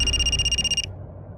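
Telephone ringing for an incoming call, a steady electronic trill held for under a second before cutting off abruptly, leaving only quiet room noise.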